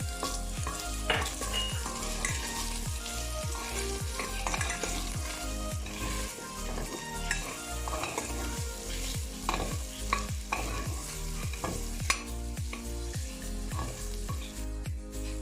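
Garlic fries and sizzles steadily in a pan with carrot while a utensil stirs it in regular scraping strokes, close and continuous for the whole stretch, no talking.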